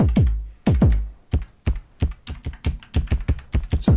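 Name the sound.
clicky keys of Teenage Engineering KOii sampler being pressed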